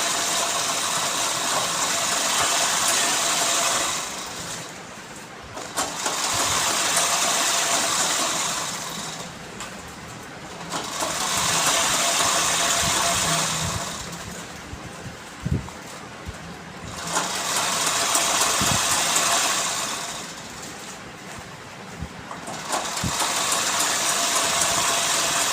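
A home sewing machine stitching two cloth bags together, its motor running in steady bursts of several seconds separated by short pauses, close and fairly loud throughout.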